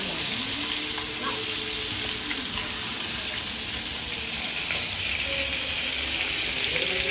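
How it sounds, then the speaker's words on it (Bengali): Stinging catfish frying lightly in a pan, a steady dense sizzle close by with faint stirring clinks and no speech. "দেখেন মাছটা ভেজে নিচ্ছি। এটা ভালো করে ভাজবো না, একটু আড়া ভাজা করবো"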